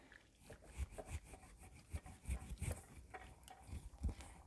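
Wheat paste of flour and boiling water being stirred in a pot on high heat, giving soft scraping, rubbing strokes at an uneven rhythm, close and fairly quiet with no talk.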